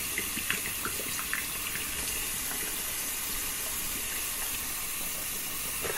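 Hot tap water runs steadily over a shaving brush knot, a soft continuous hiss of flowing water with faint splashes and drips, fairly quiet and without talk.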